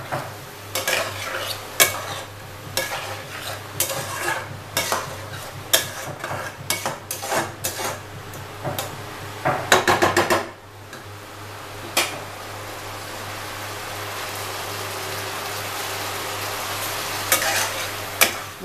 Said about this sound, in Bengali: এগুলোকে আমি একটু ভালো করে বেশ কষিয়ে নেব মশলাটা।